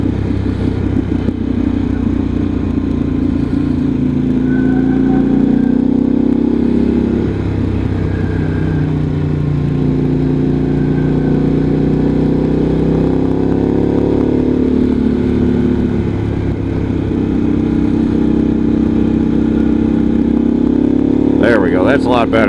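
A 2023 Harley-Davidson Pan America engine hums steadily at night, with throttle rises and falls and wind roar under a rider's continuous talk.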